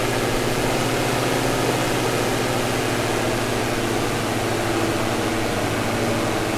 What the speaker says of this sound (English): You hear the prop pitch change as I throttle down